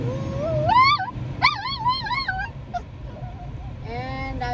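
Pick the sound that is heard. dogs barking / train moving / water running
dogs barking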